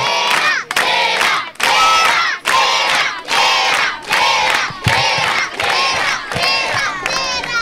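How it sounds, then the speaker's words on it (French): A crowd of schoolchildren at a public school show cheers and shouts in loud, rhythmic bursts, voices overlapping in chant-like waves, near and continuous. "On applaudit plus fort, plus fort."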